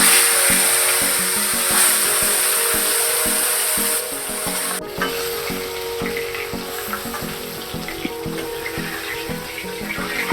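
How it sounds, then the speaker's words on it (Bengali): Fish and eggs frying in a pan give a steady, close, dense sizzling hiss that runs unbroken throughout, with no voices. "দেখো এখানে মাছ ভাজা হবে এখন, আর এখানে ডিম ভাজা হচ্ছে।"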